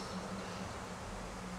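Honey bees buzzing at a hive in springtime, a dense, steady swarm hum filling the whole stretch at moderate level, with no voices.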